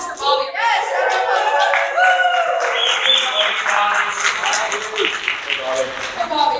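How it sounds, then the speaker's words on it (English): Audience applause and clapping for a guest named Bobby at a Star Wars fandom panel, a dense, steady round of many hands from a live crowd that keeps going for several seconds, with scattered voices mixed in. "Round of applause for Bobby"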